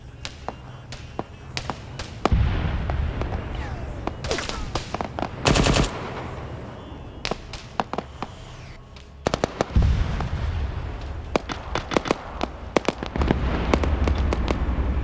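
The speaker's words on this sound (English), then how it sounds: "they're gonna keep mortaring the southern position" Mortar and gunfire in a military video game, with repeated sharp blasts and rapid bursts. Heavy deep booms land around a few seconds and near ten seconds, all over a constant rumble.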